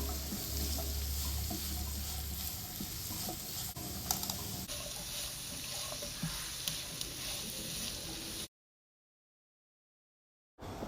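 Onions with salt sautéing in oil for a Kerala-style prawn roast, a steady dense sizzle with occasional stirring scrapes, close and continuous, then breaking off into a brief silence before resuming.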